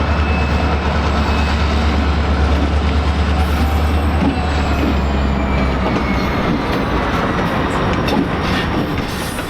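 BNSF freight cars being switched by a local job in a rail yard, with a loud rumbling roll of wagons, clanking wheels and faint squealing over a low engine drone, continuous throughout.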